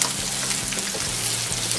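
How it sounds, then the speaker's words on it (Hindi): Onion, garlic and ginger fry in hot oil in a pan for Punjabi dum aloo, making a steady, close sizzle that holds at an even level without pauses. "ये लहसुन और अदरक भी हम इसमें फ्राई करने के लिए डालेंगे।"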